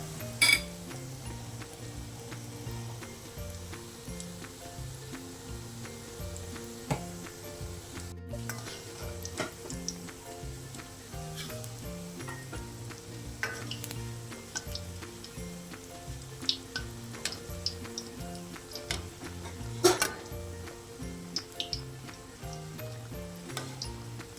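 An egg snack fries gently in oil over a low flame, a soft continuous sizzle with occasional light ticks and clinks of a utensil against the pan over about twenty-five seconds.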